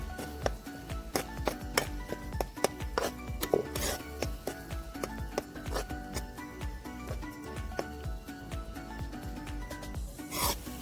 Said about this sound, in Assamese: এইখিনিও এতিয়া মই ল' মিডিয়াম হিটত 2 মিনিটমান ভাজি ল'ম